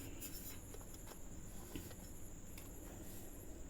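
Handwriting during a trigonometry lesson, heard as faint, steady scratching strokes of a pen or chalk, close but quiet over a constant background hiss, with no talking.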